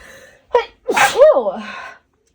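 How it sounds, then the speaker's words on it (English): A single loud, close sneeze bursts out, preceded by a short sharp intake of breath and trailing off with a brief vocal tail, then silence. "I just sneezed I had to sneeze really bad there"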